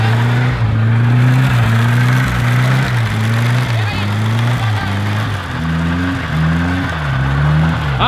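Turbocharged VW Voyage engine revving hard and close, with a loud droning rumble rising and falling in repeated throttle pulses as excited voices shout over it.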